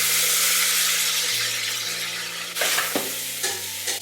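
Mixed vegetables sizzle in hot ghee with cumin seeds and lightly fried onion, a loud continuous hiss broken by scraping stirs and clanks of a spoon against the pan.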